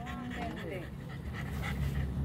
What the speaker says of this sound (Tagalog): Pati aso mo hiningal.